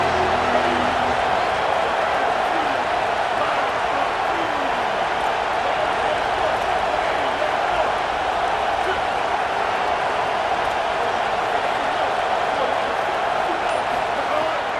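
A football stadium crowd at a bowl game roars steadily for the whole stretch, a dense, continuous wash of cheering without breaks.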